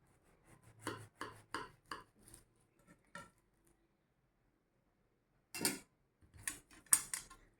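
A knife cuts through a cheese paratha on a board, a quick run of light tapping chops followed by a pause and a few more sharp knocks, close and quiet.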